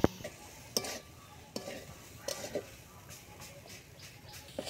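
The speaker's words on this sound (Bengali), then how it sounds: "একটু লাড়া দিয়ে নিতেছে আমার মা।" A jaggery and coconut mixture with bay leaf fries softly in a pan while being stirred, a quiet, continuous sizzle broken by intermittent spatula scrapes and taps against the metal.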